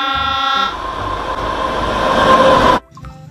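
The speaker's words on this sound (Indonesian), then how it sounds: "ada lokomotif kereta api" A toy locomotive's loud train horn blares with steady tones, then a rumbling rail noise carries on for a few seconds before cutting off abruptly.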